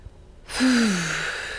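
A single deep breath drawn in during a calm self-help tapping session, one long airy inhale and sigh rising then easing off, close and fairly loud, with no talk.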